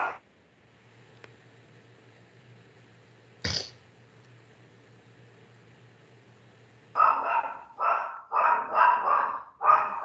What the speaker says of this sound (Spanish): El perro de Joan o es el perro de Liz? Es el mío, parece.